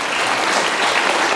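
A crowd of primary school children claps together in a dense, steady burst of applause, bright and close, with no speech over it.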